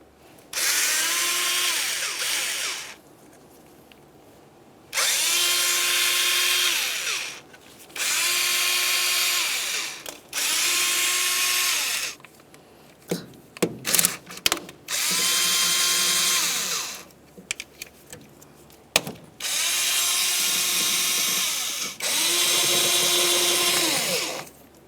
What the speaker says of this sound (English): Now we're at the point that we can start unbolting the valve cover from the engine.